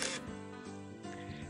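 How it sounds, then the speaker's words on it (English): A single camera shutter snaps in the Higurashi When They Cry visual novel, a brief click at the start over soft background music. "Just then, I heard the snap of a camera shutter."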